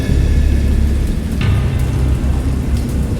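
A thunderstorm in the sea horror game Dagon brings dense, loud, continuous rain and rolling low thunder, with a brief brighter crack about midway, and no voices.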